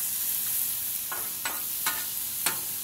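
Frozen peas and carrots cook on a grill with a soft continuous sizzle, broken by three or four short scraping strokes of a utensil stirring them.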